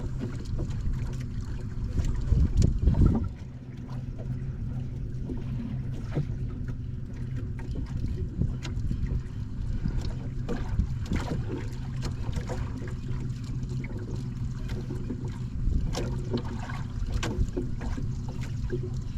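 Strong wind and waves on a small boat at sea: a constant, loud rush of wind buffeting the microphone, with water sloshing and slapping against the hull throughout.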